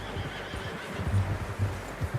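A horse in Red Dead Redemption 2 gives a few short, close neighs and snorts over a steady low outdoor bed, with faint hoof clops mixed in.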